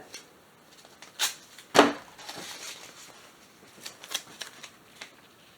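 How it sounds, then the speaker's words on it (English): Painter's tape is pulled and pressed across a surface during a spray-painting job, heard as a few sharp ripping strips and soft taps over quiet room tone. "I'm going to go straight across with that painter's tape."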